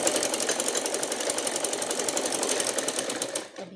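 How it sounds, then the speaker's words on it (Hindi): Sewing machine running steadily while stitching a doll-sized lehenga dress for a Mata Rani idol, a fast continuous whirring clatter that stops abruptly near the end, with no voices over it. "तो इस तरह से मैं ये भी आपको सिल के दिखाती हूँ"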